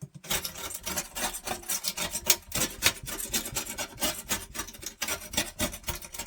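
Steady, raspy scraping strokes repeat in a brisk back-and-forth rhythm, close and fairly loud, as gunk is scraped off a blade on a glass mat.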